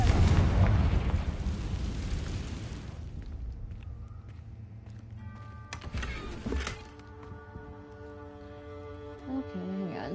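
A Confringo blasting spell explodes in Hogwarts Legacy: a loud roaring burst that decays over a few seconds, followed by quieter magical crackles and tonal chimes.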